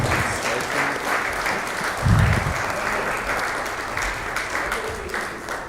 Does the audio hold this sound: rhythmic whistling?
no